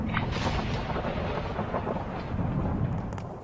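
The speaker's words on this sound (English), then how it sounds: "I don't know why it's so stormy around me" Thunderstorm with a loud, continuous rumble of thunder and steady rain noise, sustained and close throughout with no voices.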